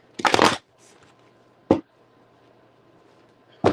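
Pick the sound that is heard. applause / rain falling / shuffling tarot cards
shuffling tarot cards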